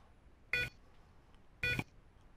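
Two short electronic beeps from a radar clock while its configuration settings are being changed, evenly spaced about a second apart, clear and close in a quiet room.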